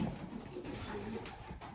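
A Belgian pigeon coos steadily while courting a hen, a low, continuous rolling coo heard close up over a faint background hiss, with no talk over it.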